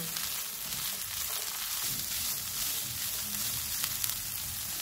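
Steady sizzling and frying of capsicum and boiled corn in a hot pan, a continuous crackling hiss with faint stirring scrapes, no voices.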